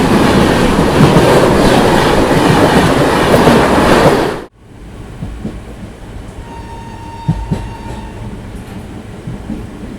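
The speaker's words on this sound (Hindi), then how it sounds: "हावड़ा सेट का WAP5 लोकोमोटिव जो हमारी ट्रेन को पुल करेगी अपनी रक्सौल हावड़ा एक्सप्रेस" Raxaul Howrah Express hauled by a WAP5 electric locomotive, loud rolling rumble and rattle for several seconds before cutting sharply to a quieter coach interior with scattered clicks and a faint tone.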